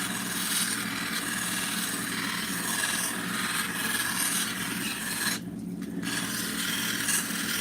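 Taos lepidolite stone being sanded at 600 grit, giving a continuous close, gritty rubbing rasp that pauses briefly before resuming.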